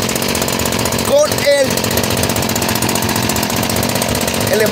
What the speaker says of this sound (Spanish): Está corriendo a 2800 más o menos y el cabezal está muy rápido.